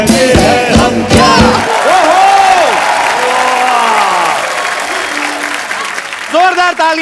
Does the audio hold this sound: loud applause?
yes